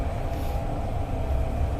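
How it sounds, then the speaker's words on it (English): Woodlands Line train, a CT251 set from 2008, running between Woodlands North and Woodlands South, heard as a loud, steady rumble of wheels and motors that fills the whole stretch without pause. "You want to rush for that train?"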